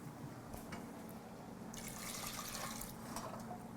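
About one and a half cups of water poured into a cooking pot, a steady splashing trickle that swells louder partway through, alone with no voices.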